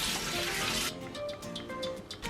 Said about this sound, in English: You can put cabbage into a strainer and wash it.